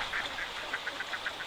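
Ducks quacking in a repeated series of short calls in the wild, fairly close and steady, over a constant background hiss.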